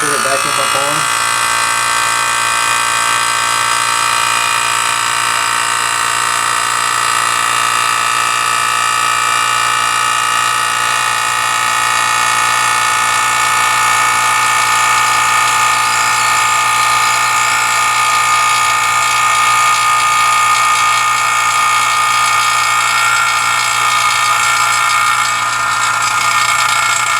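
A vacuum pump hooked to a car's A/C system during an accumulator replacement runs as a loud, constant motor whine with a steady hum underneath, unchanging for nearly half a minute.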